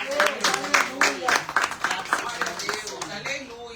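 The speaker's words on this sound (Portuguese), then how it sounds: "Aplauda o Senhor." A church congregation claps in repeated, rhythmic bursts, close and fairly loud, while a voice carries on over the clapping.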